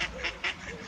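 A duck at a duck park quacks in quick rasping bursts, three or four calls within a second, close and clear over faint background noise.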